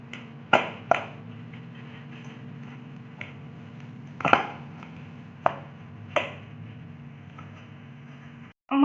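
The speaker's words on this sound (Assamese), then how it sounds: "প্ৰথমতে আমি আলুখিনি ভালদৰে মেছ কৰি ল'ম।" Boiled potatoes mashed in a bowl for rice flour potato tikki, the masher striking the bowl in sharp, irregular knocks spaced a second or so apart over a steady low hum.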